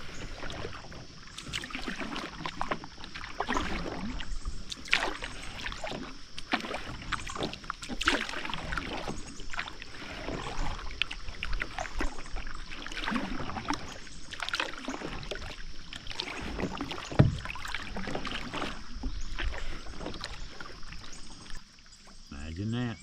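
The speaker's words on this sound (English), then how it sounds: "the kayak seems to be slicing right through it like butter" A kayak paddled along a river near a beach, with regular swishing paddle strokes and water splashes at a steady rhythm, close and fairly quiet.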